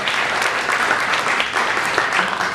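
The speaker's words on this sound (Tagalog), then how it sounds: "Come on, malakas ang palakpak." A church congregation at a Sunday service applauds loudly for the Lord, with thick sustained clapping from many people that stays strong and even from start to finish.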